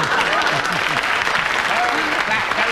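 A studio audience at a radio panel show breaks into loud, continuous applause, dense and close throughout, with a voice speaking underneath.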